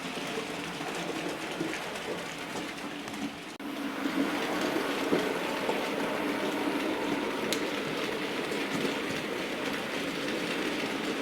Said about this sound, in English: on track that is level, this loco runs absolutely superbly